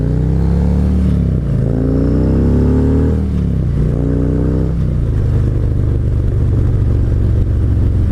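A 2021 Harley-Davidson Road Glide engine runs loud and close, a deep throbbing rumble that rises and falls in pitch through a few revs over the first five seconds, then settles into a steady low idle-like drone, with no voices.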